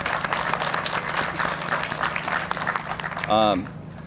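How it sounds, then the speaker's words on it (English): Steady applause from a crowd at a police and fire awards ceremony fills most of the clip, dense and continuous clapping, ending with a brief voice as it fades. "Just another round of applause for Ron for doing this."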